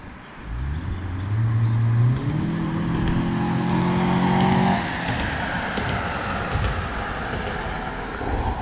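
A BMW car accelerates past nearby, its engine note climbing in pitch through the gears for several seconds, loud and steady, then settling into a lower, fading rumble.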